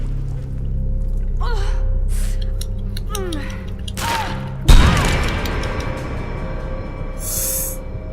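Lara Croft panting and gasping while hanging in the video game Tomb Raider, several short breathy gasps amid game ambience, followed by a sudden thud and a hiss of noise near the end.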